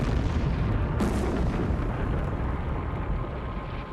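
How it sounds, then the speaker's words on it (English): Deep, sustained roar of a hydrogen bomb explosion on Eniwetok Atoll, a dense rumbling blast that fills the whole clip and slowly fades, with a sharper burst partway through. "In the late 1950s, Americans ignited their last hydrogen bomb on the Eniwetok Atoll."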